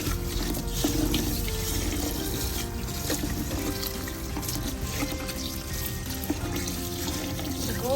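Water pours steadily into a pot to cook a large batch of rice, about five pints for three to three and a half kilos, a continuous splashing stream running the whole time with no talk.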